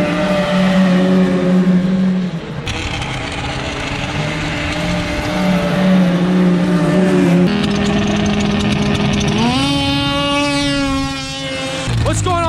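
A snowmobile practicing race starts at a test meet near Deadwood, South Dakota: a loud, droning engine that revs and climbs sharply in pitch during a launch, with people talking over it.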